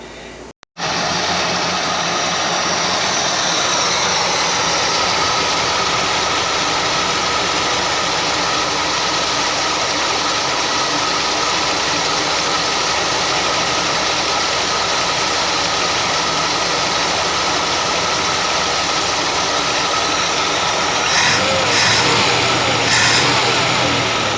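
A carbureted Lincoln Continental engine, abandoned for 32 years, idles steadily and loudly at about 850 rpm after a fuel mixture adjustment, a continuous low rumble running throughout after a short start.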